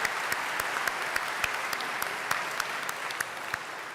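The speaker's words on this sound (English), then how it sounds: "Can we give her another round of applause?" Steady audience applause fills a college convocation hall, a dense even wash of clapping with a few sharper individual claps standing out, no voices over it.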